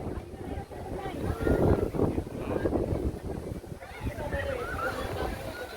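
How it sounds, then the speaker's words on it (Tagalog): Wind buffets the microphone in a low, continuous rumble while a person speaks over it outdoors. "Mahangin dito, mahangin oh."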